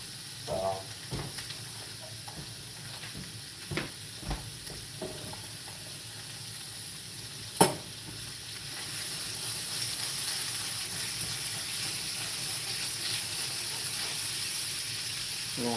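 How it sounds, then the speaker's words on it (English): A very thin steak sears quickly in a non-stick skillet, giving a soft, steady sizzle and hiss with a few sharp clicks and taps, fairly quiet and swelling slightly toward the end. "flash fire the steak, because this is very thin, and you want to do this quick, very quick."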